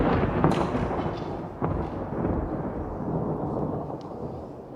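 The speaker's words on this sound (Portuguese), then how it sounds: "um trovão muito forte aconteceu" A very loud thunderclap sound effect, a deep booming crack that erupts at the start and rolls on as a long rumbling tail, alone with no voices.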